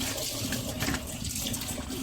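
Tap water runs steadily into a sink while food is rinsed under it, a loud, continuous splashing rush that stays even throughout.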